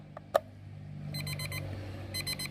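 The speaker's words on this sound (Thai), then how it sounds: "นาฬิกาปลุกของเรามีเสียงดังขึ้นเลยครับ" A battery-powered alarm clock, just revived after a battery fix, starts ringing in rapid repeated electronic beeping bursts, close and fairly loud, after a couple of sharp clicks.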